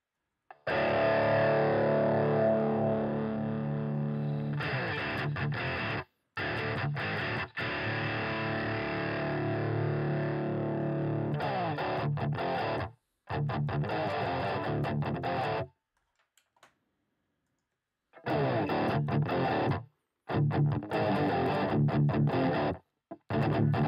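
Electric guitar played through a GarageBand amp simulator with a heavy boost, distorted and saturated, loud sustained chords and riffs broken by a few abrupt silent gaps.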